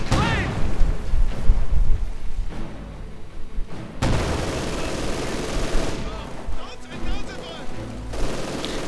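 Machine gun bursts and scattered gunfire from a battle in the game Company of Heroes 2, rattling volleys and sharp booms in quick clusters, heard with someone talking over the action.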